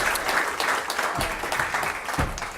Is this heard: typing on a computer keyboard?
no